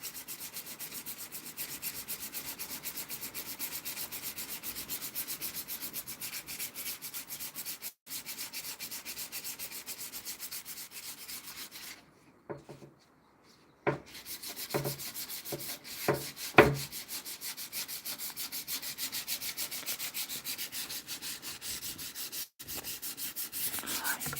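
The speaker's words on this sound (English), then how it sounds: "when I get these high spots down, I'll then sand with the grain, of course" Steady rubbing rasp of sandpaper worked by hand over a wooden cabinet door to knock down high spots, continuous strokes filling most of the stretch with a brief pause and a few knocks and taps midway.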